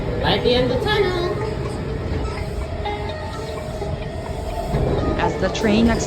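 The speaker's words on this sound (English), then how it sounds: "As the train exited the tunnel," A metro train rumbles and hisses steadily through a tunnel, with a continuous roar and faint squeals, while people talk over it.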